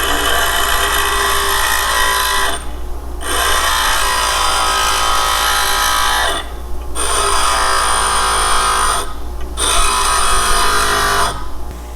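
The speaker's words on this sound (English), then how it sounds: "Let's see if it can take care of this bolt end for us and sharpen it." WEN 6-inch bench grinder sharpening a bolt end against its wheel: a loud, steady high-pitched whine and grinding hiss that cuts out in several brief gaps as the bolt is lifted away.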